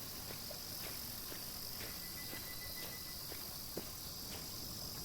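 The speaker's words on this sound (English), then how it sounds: "I really hope the sound of cicadas goes away." Cicadas buzz steadily in the video game Nostalgic Train, a faint, continuous insect drone with soft repeated ticks, set in a quiet outdoor scene with no talking.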